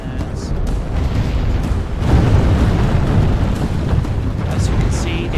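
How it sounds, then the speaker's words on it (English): Cannons fire in a medieval-era strategy video game, in a thick, continuous wall of booming blasts and rumbling explosions that barely lets up throughout. "I'm using cannons to defeat everything."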